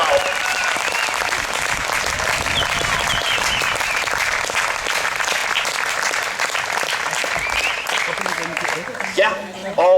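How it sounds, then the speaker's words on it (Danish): An audience at a sports competition event applauds loudly and continuously, a dense crowd of clapping that thins out toward the end, with a voice briefly heard over it. "jeg synes lige, vi skal give et bifald"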